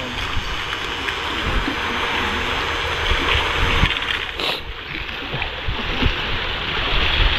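A strong, fast river current rushes past near a dam, giving a loud, steady roar of churning water that never lets up and covers everything else.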